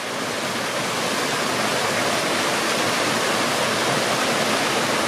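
Mountain torrent rushing steadily at close range, a dense, continuous roar of flowing water that stays loud and unbroken throughout, with no voices.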